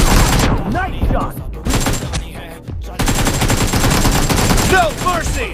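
Rapid AKM rifle bursts from a mobile shooter game, loud and close, firing in repeated automatic volleys with brief pauses between them, mixed with game effects.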